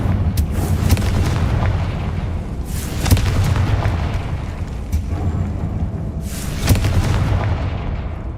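In Hogwarts Legacy, the Confringo fire spell explodes as a string of heavy, booming blasts, loud and near, rolling over a low rumbling background, with the biggest bursts landing near the start, in the middle and near the end.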